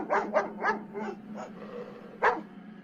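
A dog in the back seat of a car barks loudly in a rapid run of five sharp barks, pauses, then lets out one more bark, close and insistent, as an animated story sound effect.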